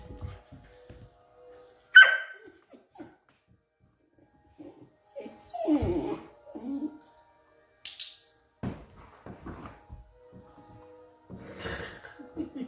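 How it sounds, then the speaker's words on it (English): A dog whimpers and lets out short yips and barks in scattered bursts, close by, with quiet pauses between. "Silly dog."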